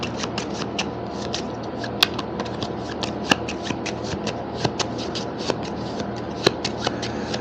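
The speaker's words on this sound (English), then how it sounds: "let me stop and shuffle in deck number 1" A deck of cards for the Euphoria: Build a Better Dystopia board game being shuffled by hand, a close run of rapid riffling flutters broken by a few sharp snaps, with no talking.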